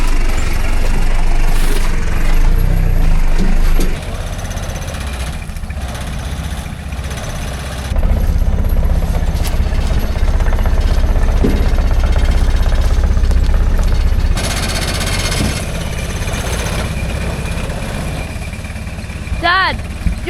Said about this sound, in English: Dad, your engine mount's rattling.